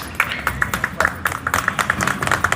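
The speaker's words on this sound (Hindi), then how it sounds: "ताली बजाने की बात नहीं है" An audience at a spiritual talk on household life claps in a loose, uneven burst of hand claps, many quick sharp slaps overlapping at close range for a couple of seconds.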